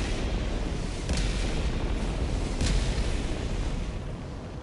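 Rumbling explosion blasts in a bug-fighting shooter video game, a continuous low roar with two sharper bursts around one and two and a half seconds, loud and sustained throughout.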